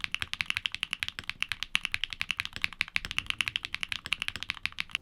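Keyboard typing with Keygeek switches, a fast steady stream of crisp, close key clacks with no talking over them.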